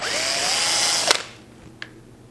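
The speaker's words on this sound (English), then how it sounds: "And I typically pre-drill those with a depth limiting bit." A power drill with a depth-limiting bit pre-drills hinge holes on a shelf pin drilling jig, whining briefly at close range before stopping with a sharp click, followed by a faint tap.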